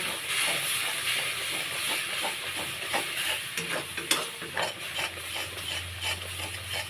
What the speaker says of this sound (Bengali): কন্টিনিউ নাড়তে হবে নাহলে কড়াই লেগে যাবে